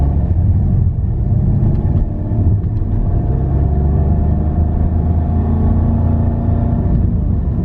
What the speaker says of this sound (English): if I accelerate slowly here,